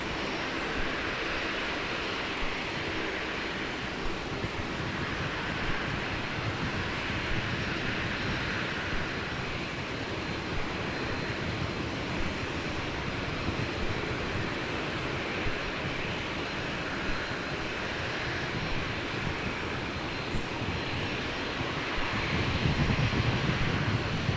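A passenger aircraft taxiing at Brisbane Airport gives a steady, distant jet-engine rumble and whine that holds evenly throughout, with no talk over it.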